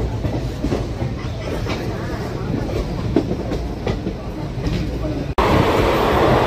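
A superfast train runs through Kadiyam railway station without stopping, heard from inside a general coach. The rolling roar and rattle of the carriages stay loud and steady, then swell abruptly near the end.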